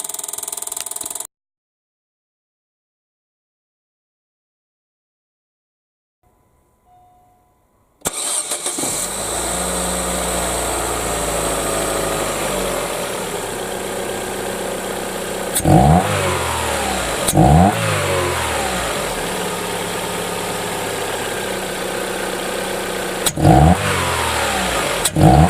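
A Chevrolet Lacetti after injector repair starts up following a brief silence, then runs steadily close by with several sharp throttle revs that rise and fall, with no talk.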